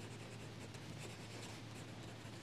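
An extra fine fountain pen nib scratches steadily across paper in a continuous soft, faint rasp with light rhythmic strokes, alone with no talk.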